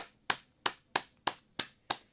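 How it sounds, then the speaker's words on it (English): An audience claps at a community foundation event: six sharp, evenly spaced claps about a third of a second apart, each one distinct and close, with quiet gaps between them. "Can you clap for yourself?"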